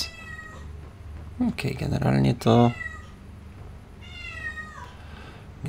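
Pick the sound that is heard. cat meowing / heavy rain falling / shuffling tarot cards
cat meowing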